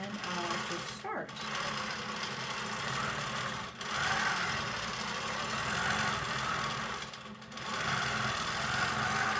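A longarm quilting machine stitching a pantograph from the front runs with a steady, close mechanical hum and rapid needle chatter, broken by two or three brief pauses.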